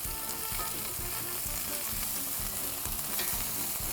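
Chicken wings sizzle and crackle steadily in a hot pan inside a wood-fired pizza oven, with repeated low scraping knocks as they are turned and shifted, continuous and close with no talk.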